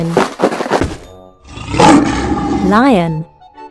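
Lion roar in a children's animal learning game, a loud, growling roar that swells and then fades after brief voice-like game sounds, with a rising and falling synthetic tone near the end.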